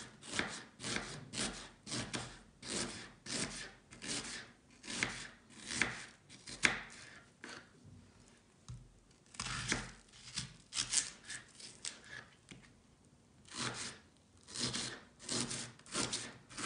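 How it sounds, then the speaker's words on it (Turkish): Onions being sliced into thin half-moons with a knife on a board, rhythmic bursts of close crisp cutting strokes with short pauses between runs, no talking. "Soğanlarımı yarım ay şeklinde ince ince doğruyorum."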